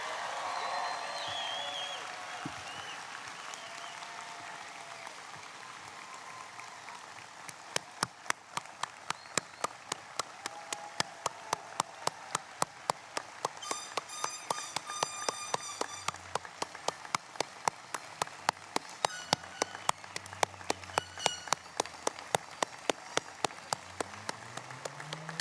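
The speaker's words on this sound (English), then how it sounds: "Please give these graduates a round of applause that you've never heard before" Applause for graduates at a high school graduation ceremony: steady crowd clapping with sharp, rhythmic claps building in after the first few seconds, along with background cheering, sustained throughout.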